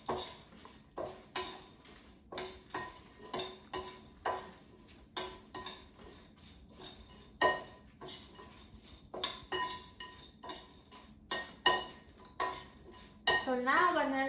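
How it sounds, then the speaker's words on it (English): Diced frozen potatoes tossed with oil, salt and pepper in a bowl, giving a steady run of close clinks and scrapes of utensils against the dish, repeated rhythmically with no talking. "let's toss them to coat in oil and seasonings"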